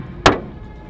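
A single large hailstone slams onto a car during a sudden hailstorm, one sharp loud impact standing out against a quiet background, with no voices.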